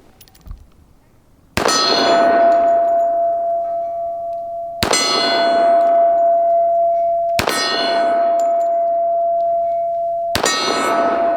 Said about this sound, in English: So kind of watch as I fire. I fire one-handed at the cowboy.